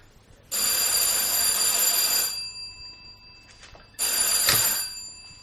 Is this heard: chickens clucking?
no